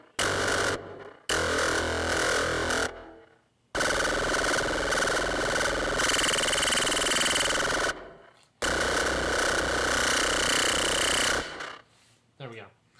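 A humming bird synth patch in Reason 6.5 with 4-voice unison plays in sustained buzzing bursts separated by short silences, bright and dense, alone without talk.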